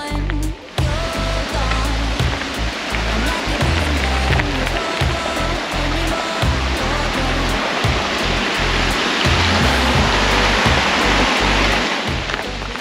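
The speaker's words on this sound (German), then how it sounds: "Ein Wasserfall." A waterfall at Eibsee lake in the Bavarian Alps rushes loudly and continuously, its steady roar filling the scene close by.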